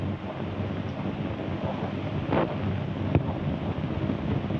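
Outdoor wind rushes steadily and roars over the microphone, a broad continuous noise with no talking.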